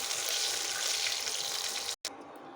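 Taki fish fry in hot oil in a pan, sending up a loud, continuous close sizzle that drops out abruptly for a moment near the end before returning more faintly.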